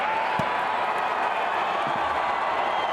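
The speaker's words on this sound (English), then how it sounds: "What a roar from the crowd." A packed stadium crowd roars continuously through a steeplechase final in Doha, a dense, steady wall of cheering and noise with faint claps scattered within it.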